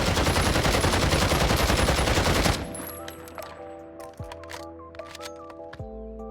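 Rapid automatic gunfire from a Warzone video game weapon roars continuously as the magazine empties, then cuts off to quieter clicks and mechanical clacks of the reload.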